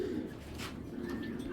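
A pair of healthy racing pigeons give low, soft cooing close by, a steady quiet throaty murmur with faint background noise.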